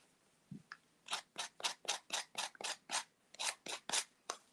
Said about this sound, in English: I got a little aggressive with the sander. Light sanding, because this is MDF.